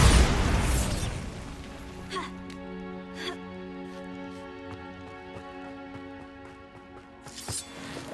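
A Bombarda blast spell goes off in the Hogwarts Legacy video game, opening with a loud boom that trails into a long ringing magical shimmer with a few softer pops, while a voice speaks over the start.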